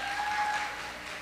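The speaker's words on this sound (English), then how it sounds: "Let's get a big round of applause for all of our speakers and organizers and everybody that came." A conference audience applauds the speakers and organizers, a brief burst of steady clapping from a crowd in a hall that fades slightly toward the end.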